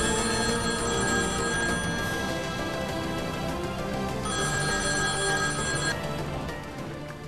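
A telephone rings steadily and loudly for about seven seconds in an indoor scene from a French drama series, its bell-like tone repeating with a short pause partway through, with no talking.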